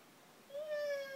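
A cat meows once in a home, a short faint rising-then-level call that comes late and stands alone without talk.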